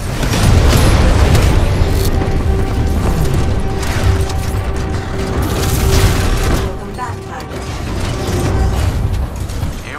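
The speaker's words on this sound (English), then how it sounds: "Stand by for Titanfall." A Titan drops from the sky in Titanfall 2 multiplayer, loud heavy booms and rumbling impacts over continuous battle noise, with a voice talking over it.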